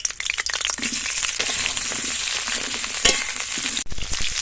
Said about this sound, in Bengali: এবার এই সবজিগুলো ভেজে নেব। দিয়ে দেবো সরষের তেল, দিয়ে দেবো আলু আর